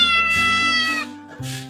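A pet cat meows loudly and close, two drawn-out tonal meows, the first long and falling, the second shorter, with no talking.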